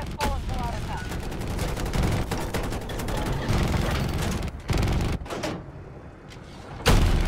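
Rifle fire in Battlefield 2042, rapid bursts of close shots blending with other combat noise, pausing briefly, then sharp single cracks toward the end, with a voice partly mixed underneath.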